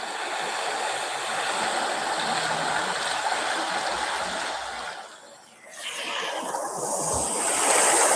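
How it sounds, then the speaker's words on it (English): Recorded ocean water played during a Reiki healing session, a steady broadband wash of surf and flowing water that dips briefly midway before swelling back, continuous and fairly loud with no talking. "we're going to listen to kind of some of the ocean"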